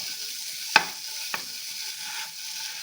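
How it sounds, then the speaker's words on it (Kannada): Khoya (mava) heats in a pan for gujiya filling, with a soft continuous sizzle and two sharp spatula taps against the pan. "ಕೋವ ಹಾಕ್ಕೊಳ್ತಾ ಇದ್ದೀನಿ ಕೋವನ ಬಿಸಿ ಮಾಡಬೇಕು"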